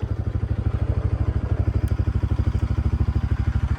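A motorcycle engine runs close by on a dusty mountain road, a loud, fast and even low thumping pulse that keeps going the whole time without a break.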